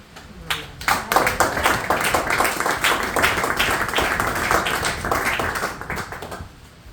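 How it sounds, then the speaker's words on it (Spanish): A church congregation claps in a Spanish-language service, a burst of close, sharp hand claps that swells quickly, holds for several seconds, and fades out. "Dale un aplauso a Dios."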